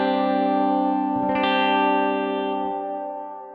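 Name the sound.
guitar through reverb pedal with long decay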